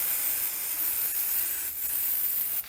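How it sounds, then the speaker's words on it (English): Fluid Film sprayed from an aerosol can onto a brake surface of a Ford Transit-250 during a rear pad and rotor job, a steady close hiss running for a few seconds with brief bursts. "I'm gonna take a little fluid film. Spray on this."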